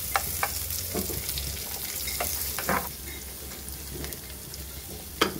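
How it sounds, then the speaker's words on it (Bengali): Butter, chopped ginger, chili and capsicum sizzling in a heated pan, a close, steady crackle with intermittent scraping stirs and sharp spatula taps. "এখানে গরম করে এখানে কিছু বাটার, আগে থেকে কিছু আদা কুচি, কিছু মরিচের কুচি আর ক্যাপসিকাম আমরা এখানে দিয়ে দিব"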